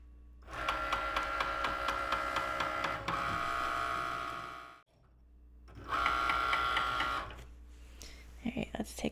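A Cricut cutting machine runs a cut for a craft mug cozy, close and steady, with fast ticking motor passes in two runs separated by a short pause and a low hum beneath.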